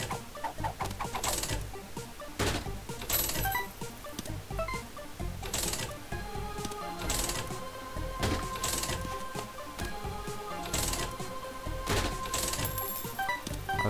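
Arcade-room gambling for keys in The Binding of Isaac Rebirth: busy, steady game sound with repeated coin-like clinks, chimes and short jingles over a looping backdrop.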